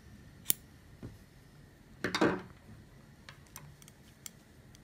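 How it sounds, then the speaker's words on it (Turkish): Scissors snipping black knitting yarn, a quiet close cut with a short cluster of crisp snips and a few faint ticks around it, no talking. "Siyah ipimi de kesiyorum."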